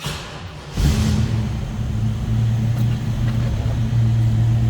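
A 1937 Ford Cabriolet street rod with a fuel-injected 1995 LT1 V8 and vented OptiSpark fires up with a sharp burst, then settles into a steady, close, rumbling idle with no talk.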